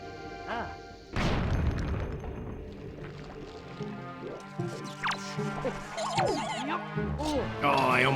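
A loud bomb blast erupts early in Zelda Wind Waker inside the Tower of Gods, followed by rumbling debris and game sound effects, with a voice talking over parts of it.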